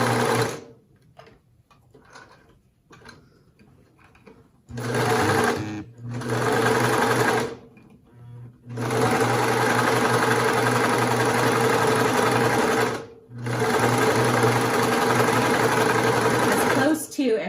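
Sewing machine top stitching a cloth facemask along basting stitches, running in several loud sustained bursts with short pauses between them; quieter handling sounds come before the first run.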